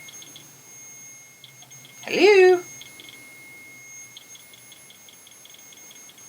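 Small electronic chirps from a K2 EMF meter tick in short, regular clusters throughout, faint and steady, while a voice briefly speaks over them.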